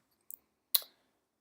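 Computer mouse clicks sound during a database export in SQL Pro: a faint quick double click, then a single sharper, louder click, crisp and close in an otherwise silent room.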